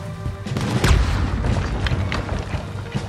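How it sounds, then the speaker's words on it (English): A ship's cannon fires in the Red Dead Redemption 2 video game, giving a deep, loud boom that rumbles on, with further heavy thuds and battle noise rolling underneath. "There's another cannon up ahead on our left."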